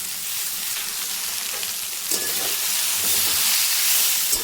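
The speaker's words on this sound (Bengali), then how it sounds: "ভালো মতন সব কিছু আমি ভেজে নিয়েছি" Cashews and green chillies frying in a pan for paneer butter masala, a constant bright sizzling hiss with occasional stirring scrapes, growing a little louder toward the end, no voices.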